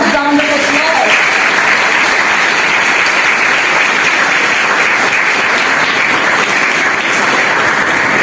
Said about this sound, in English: Once again, a loud round of applause.